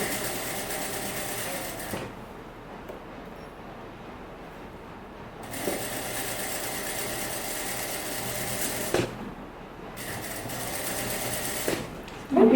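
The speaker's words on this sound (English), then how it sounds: "So we can have to sew all the way down here. And reverse it." A sewing machine stitches a seam on a fitted jumpsuit, running in three loud, steady bursts separated by short pauses.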